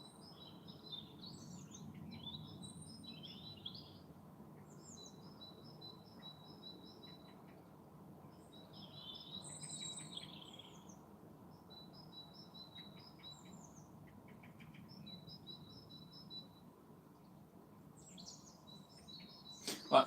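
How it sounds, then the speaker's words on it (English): A bird calls outdoors at night, its faint, high chirps repeating in short bursts over steady low background rumble, with a brief louder knock at the very end. "I can hear a bird out there."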